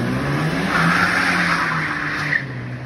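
A car drifts sideways with a sustained, steady tire squeal over engine noise that carries at a fairly constant level for a few seconds.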